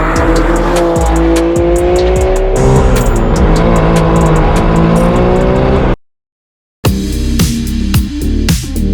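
BMW M4 G82 manual fitted with a titanium exhaust roars loudly through revs and acceleration with tire squeal, cuts to a brief silence, then resumes with more harsh, crackling exhaust bursts.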